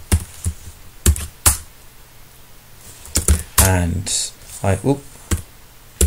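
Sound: typing commands on a computer keyboard

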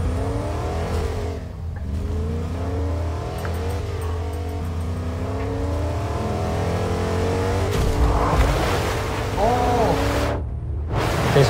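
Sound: car driving in Fortnite video game

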